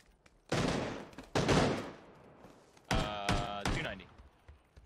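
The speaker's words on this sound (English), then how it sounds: "They were shooting at you" Video game gunfire: several loud bursts of shots and heavy thumps in separate clusters, close and sharp, with brief talk between them.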